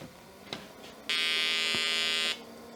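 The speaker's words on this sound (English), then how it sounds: "Lights on, beeping." An Olivetti M300-30 computer gives a single steady electronic beep lasting just over a second at power-on, loud against a quiet background with a couple of faint clicks before it.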